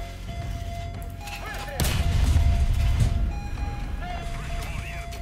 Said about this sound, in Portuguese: eu ouvi um tiro